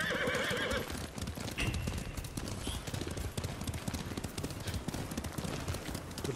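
Horses gallop in a steady, loud clatter of hooves, with a clear whinny near the start, in the Ghost of Tsushima video game; the galloping runs unbroken throughout.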